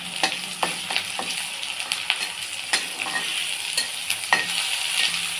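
Onions and yam pieces frying with spices in a pan sizzle steadily while a spoon stirs and scrapes them in repeated knocks and sweeps, close and fairly loud.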